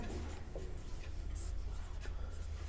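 Chalk or marker writing on a board during a Hindi-language maths lesson on median problems, a steady scratchy rubbing that runs continuously and close by, with no talking.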